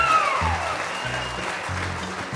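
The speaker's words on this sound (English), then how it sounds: "Give her a nice round of applause." An audience claps at a live bluegrass festival in Denton, North Carolina, a short burst of applause mixed with low tones and a faint voice.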